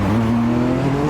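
Race cars in the RXGT N300 classic cars event, including an HKS-equipped car, launching hard off the start line, a loud, continuous engine roar with a steady droning pitch that rises slightly.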